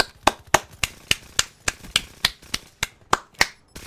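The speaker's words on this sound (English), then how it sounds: "it was a skin clapping noise" Sharp skin-on-skin claps repeat in an even, quick rhythm of about a dozen slaps in a room, each crisp and close, with nothing else mixed in.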